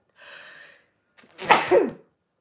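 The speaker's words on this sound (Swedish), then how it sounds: "Nu var jag tvungen att nysa." A single person's sneeze, close and loud: a breathy intake builds first, then after a short pause a sharp, explosive burst ends the clip.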